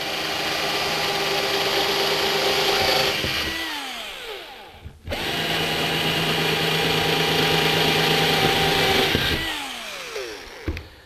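A drill bores a tooling hole through a metal blank into a form block for a homebuilt aircraft part, running in two long, loud whining bursts that each spin down, with a short pause between them.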